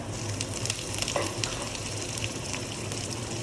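Ginger paste added to onions already browning in a pan gives a steady, dense sizzle that holds at an even level throughout, close by, with no talking.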